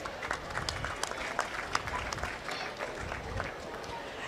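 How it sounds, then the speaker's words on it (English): A crowd claps for exhibitors at a 4-H/FFA beef cattle show, a busy patter of applause with louder individual claps standing out and a voice talking underneath. "Give these exhibitors a round of applause."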